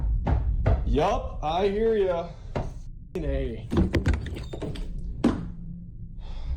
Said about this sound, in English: every single night at the same time this knocking starts